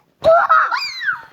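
A family member lets out a short, loud, shrill scream close by, rising and wavering for about a second, sounding like excited yelling at home.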